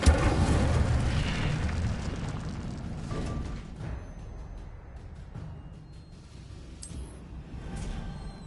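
In a Harry Potter video game, an Incendio fire spell goes off as a loud roaring blast, which then fades to a low crackling rumble with a few small pops.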